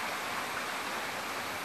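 Small rapids of a stream in a valley of the eastern Mecsek hills, near a dripping rock and a waterfall: a steady, broadband rush of running water, close and continuous, with no voices.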